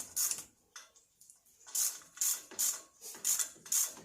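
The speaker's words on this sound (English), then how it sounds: "Make sure the bolt threads down in okay." A bolt threads into a bumpstop mount on a Jeep TJ, producing a run of quick, close ratcheting clicks in short repeated bursts that keep a steady rhythm.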